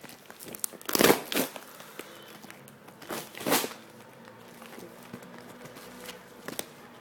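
Paper packaging crinkles and rustles while a Tag Heuer watch box is unboxed, with two louder close bursts of crumpling among softer handling noises.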